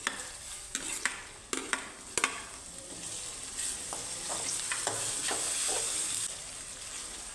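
Chapati chivda with tomato sautés in a pan, a soft continuous sizzle and hiss punctuated by sharp clinks and scrapes of a spoon stirring, fairly quiet and close, without speech.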